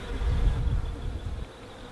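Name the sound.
swarm of honeybees buzzing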